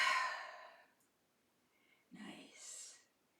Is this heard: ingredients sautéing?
no